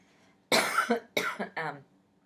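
Three sharp, close coughs in quick succession, each a short harsh burst, with silence before and after.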